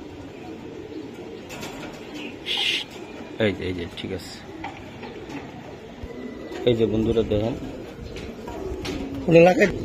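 A racing pigeon from an auction loft coos softly in low repeated bursts, near and under steady talk from a man holding and showing the bird.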